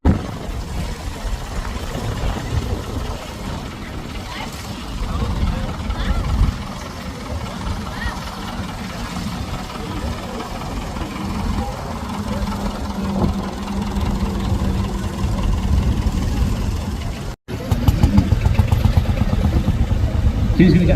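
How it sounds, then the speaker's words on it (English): Several vintage tractors, including a David Brown 990, drive around an arena at a steam show, their engines chugging and rumbling steadily with shifting revs, briefly cutting out once before resuming louder. "So he's going to get our tractors to drive around the arena."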